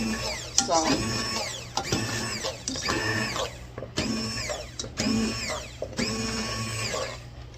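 Big strawberries for strawberry rhubarb jam, made from frozen fruit, are ground in an electric appliance. The motor whirs in about five loud pulsed bursts, each pitching up then cutting off, with short gaps between.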